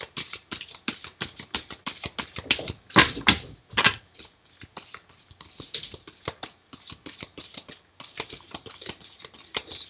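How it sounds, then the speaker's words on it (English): Tarot deck being shuffled by hand, a rapid run of crisp riffling card clicks and flutters in uneven bursts, close and clear with no talking. "we got to warm them up and give them a good shuffle"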